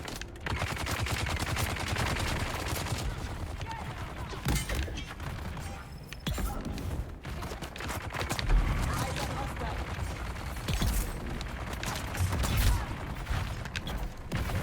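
Rapid enemy gunfire in a Dune: Awakening lab fight, sustained bursts and fusillades crackling loud and close for the whole stretch, with a player's voice talking over the shooting.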